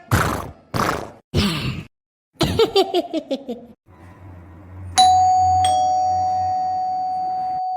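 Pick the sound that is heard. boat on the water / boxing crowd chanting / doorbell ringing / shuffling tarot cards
doorbell ringing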